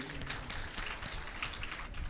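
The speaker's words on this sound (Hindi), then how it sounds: "सुंदर तालियां बजाइए।" Short burst of audience clapping at a spiritual discourse gathering honouring an Ayurveda expert, steady and moderately close throughout with no pauses.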